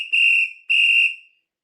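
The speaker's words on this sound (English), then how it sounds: "We blow the whistle." A whistle blown twice, two loud, sharp, shrill blasts of about half a second each, close and alone with no talk.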